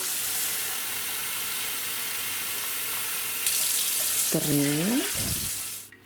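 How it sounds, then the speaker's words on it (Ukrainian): Steady rush of cold water running from a tap for several seconds, ending with a short burst of gurgling splashes as it fills a jar; a voice speaks briefly. "додамо 2 літра холодної води, одна літрова баночка, дві"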